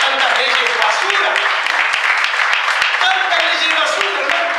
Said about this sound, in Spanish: Un aplauso, señores.